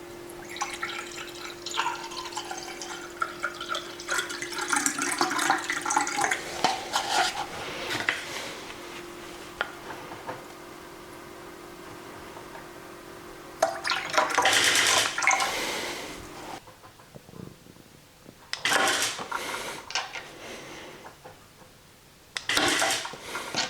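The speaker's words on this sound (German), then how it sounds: "Ich tue Wasser reinfüllen" Water poured over ice cubes in a glass for splash photography, coming in several separate bursts of splashing and trickling with pauses between them, with no talk.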